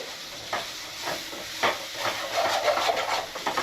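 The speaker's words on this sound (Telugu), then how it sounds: "దీన్ని 1 నిమిషం పాటు పచ్చివాసన పోయే వరకు వేయించుకోవాలి" Ginger garlic paste fries and sizzles in a pan for a fish curry, with a steady hiss broken by repeated stirring scrapes, close and continuous.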